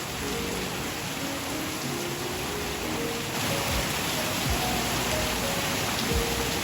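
Heavy rain falling on a Sunday afternoon, a steady broadband wash of downpour that holds evenly throughout and swells slightly halfway through, with occasional louder drops and no voices.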